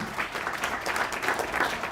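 Short burst of audience applause after a demo presentation at a San Francisco tech demo night, steady clapping from a crowded room throughout.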